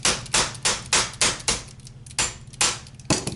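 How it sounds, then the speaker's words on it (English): Fiberglass-faced armorer's hammer tapping a part into an M60 machine gun: about a dozen sharp, close taps in an uneven rhythm, each ringing briefly, with no voices. "a fiberglass end on a little armor's hammer, and a little tapping. We're not beating on it, we're just tapping it in."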